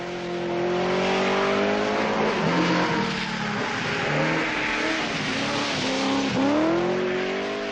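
A Triumph rally car on a 1978 Manx Rally stage drives sideways, its engine revving loud and close with rising and falling pitch and some tyre scrabble, with no voices over it.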